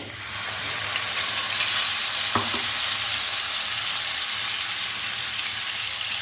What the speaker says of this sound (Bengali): এবার গ্রাইন্ডারে টমেটো আর আদাটা পেস্ট করে নিয়েছি সেটা দিয়ে দেবো